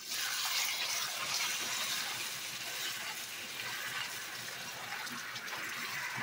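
Water pours steadily into a pan of caramelized burnt sugar, a continuous rushing hiss that holds at an even, fairly loud level throughout, with no voices.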